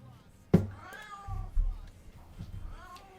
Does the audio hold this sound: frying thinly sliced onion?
no